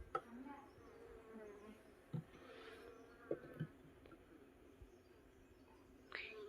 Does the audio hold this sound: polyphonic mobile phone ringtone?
no